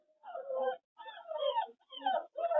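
A dog from a kennel whimpers and whines in several short, high, plaintive bursts separated by brief silences. The sound is close and fairly soft.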